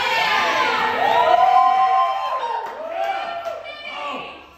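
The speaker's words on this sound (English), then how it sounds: "there's the crowd" A concert crowd at a show cheers and shouts loudly and continuously, with whoops rising and falling before the noise fades toward the end.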